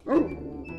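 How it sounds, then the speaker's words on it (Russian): Dog barking at a kennel, a single sharp, close bark followed by a short quieter tail. "у нас самая говорливая собачка"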